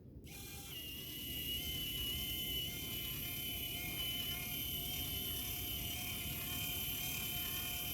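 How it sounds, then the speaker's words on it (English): A motorized Hachette Titanic scale model turns its three propellers with a steady, buzzing mechanical whir and gear chatter that starts abruptly and then holds constant, close and fairly loud. "all three propellers should move."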